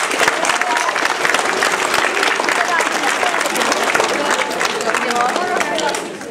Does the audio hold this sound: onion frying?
no